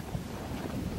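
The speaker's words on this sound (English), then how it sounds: "It is rumbling in here because it's so windy." Strong wind buffets the microphone in a continuous loud rumble inside a tent at a desert camp in Morocco, with no other sounds coming through.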